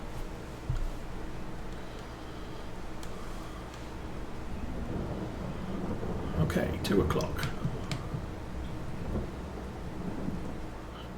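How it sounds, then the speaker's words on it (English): Steady rain patters over low rumbling thunder in a Farming Simulator 22 storm, with a stronger rolling crack midway; someone speaks briefly over the downpour. "Stop raining already."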